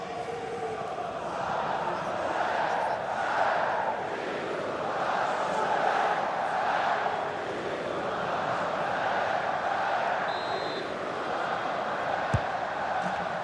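Lyon football fans cheer and chant in the FIFA 20 video game, a sustained, surging crowd roar with swelling chants, steady and moderately loud throughout, with no clear commentary.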